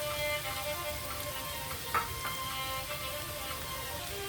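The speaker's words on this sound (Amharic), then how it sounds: "ነጭ ሽንኩርቱን ደግሞ ከሽንኩርቱ ጋር በደንብ እናበስለዋለን፣ እንጠብሰዋለን ማለት ነው።" Crushed garlic and onion fry together in a pan, a steady close sizzle running throughout with a brief stirring clatter near the middle, no voices.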